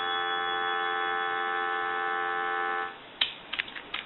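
An ITT Trimline telephone gives a steady, continuous dial tone that hums without variation for about three seconds, then cuts off, followed by a few faint clicks and handling noises.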